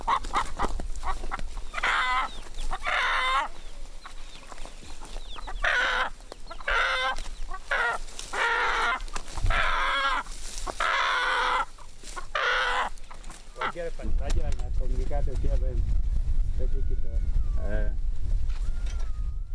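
A chicken being taken to a nearby town market clucks repeatedly and fairly close, in bursts of busy cackling, with a voice talking over much of it and louder rustling or wind noise near the end.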